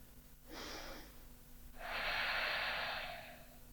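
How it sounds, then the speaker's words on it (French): Close, soft breathing during a seated Ashtanga yoga posture: a short inhale followed by a longer, fuller exhale through the nose, airy and quiet against a faint background hum. "On reste pour 5 respirations."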